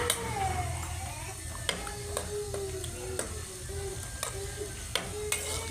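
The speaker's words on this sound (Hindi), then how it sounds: "अब इसमें हम प्याज ऐड करते हैं।" Onions fry in hot oil for a potato and cauliflower dish. A steady, soft sizzle runs throughout, broken by sharp clicks of a spoon stirring against the pan at irregular intervals.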